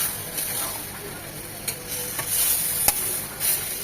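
Hilsa fish heads fry in hot oil with taro greens, a constant bright sizzle broken by a few sharp spatula knocks as the pan is stirred, close and without talk.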